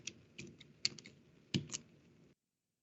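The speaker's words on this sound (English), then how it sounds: "now I will type the right password" Password typed on a computer keyboard: a short run of soft, close key clicks in uneven bursts, ending abruptly in silence.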